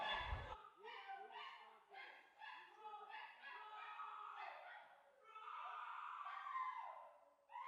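A dog barks and yelps repeatedly in a rapid, agitated series over a thin, compressed phone line, the calls running together with brief pauses.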